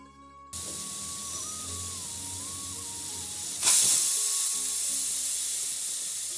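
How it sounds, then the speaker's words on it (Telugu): A pressure cooker on a medium flame hisses steam while vegetable pulao cooks, a steady close jet of spray that flares into a louder whistling burst midway, then settles back to a constant hiss. "కుక్కర్కి మూత పెట్టి విజిల్ పెట్టేసుకొని మీడియం ఫ్లేమ్లో ఒక రెండు విజిల్స్ వచ్చేంత వరకు కుక్ చేయండి"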